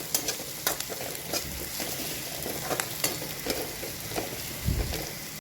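Ground paste for mustard greens sizzles in hot oil with cumin while a spoon stirs it around the pan, a steady frying hiss broken by sharp scraping taps.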